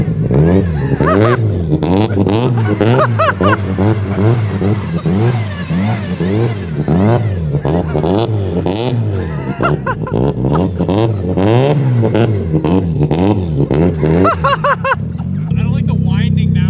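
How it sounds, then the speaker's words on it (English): A BMW car's engine and transmission whine up and down in repeated rising and falling sweeps while it drives in reverse, loud and close, with people talking over it. "I don't like the winding sound of my transmission."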